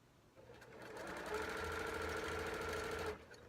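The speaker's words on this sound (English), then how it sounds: "Feels good to be sewing again." A home sewing machine runs in a steady, close, continuous stitching whir for about two seconds, with a brief faint start and a clean stop; no one talks over it.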